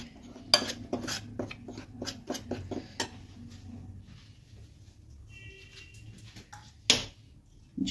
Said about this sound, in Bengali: এবার এটাকে ভালোভাবে মিশিয়ে